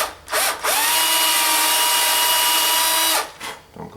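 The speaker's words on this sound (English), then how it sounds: "I want to drill a hole in here" A power drill bores a hole into a wooden arm piece held by a fresh glue joint, giving a loud, close, steady whine for about two and a half seconds, with short spin-ups before and after.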